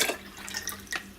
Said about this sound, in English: Now pour your Scoby in, which will have some kombucha already in it